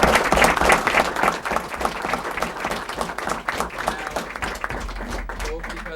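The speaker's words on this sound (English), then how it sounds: "We'll do a big round of applause now for our staff members" A school committee meeting crowd gives staff members a hearty round of applause: dense, steady clapping from a roomful of people, holding strong for several seconds with slight easing toward the end.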